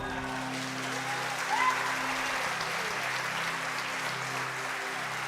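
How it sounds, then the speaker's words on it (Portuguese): Congregation applauding in a church during a Portuguese-language sermon, a steady, moderately faint wash of clapping that holds for several seconds. "Você pode aplaudir ao Senhor?"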